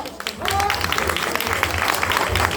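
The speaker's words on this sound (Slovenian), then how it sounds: "en aplavz za Kristino" A studio audience gives a warm round of applause at a fiftieth-birthday show in a hall, a steady patter of many hands with a voice speaking briefly over it.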